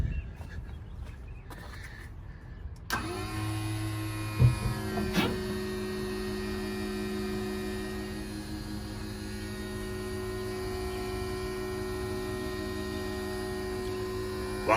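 The electric cab tilt motor on a 2020 Lamtrac LTR6140 raises the cab. After a few seconds of low background noise, a steady electric whine with a droning hum starts and holds evenly to the end, alone and fairly close.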